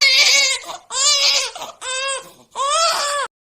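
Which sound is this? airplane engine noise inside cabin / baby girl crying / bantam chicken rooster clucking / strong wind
baby girl crying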